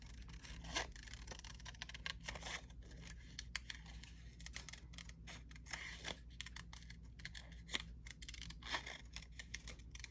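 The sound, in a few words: cutting out a paper picture from junk mail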